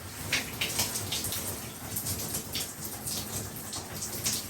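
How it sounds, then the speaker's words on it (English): Running water pours steadily through natural hair as soap is rinsed out during a wash-day routine, a continuous close hiss and splash with faint patter, no voices. "You can part between the strands to have the water flow through it."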